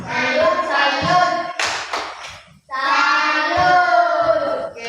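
A class of schoolchildren performs a 'tepuk salut' clap routine: chanted unison voices dominate, broken by a short burst of claps in the middle before the chanting resumes.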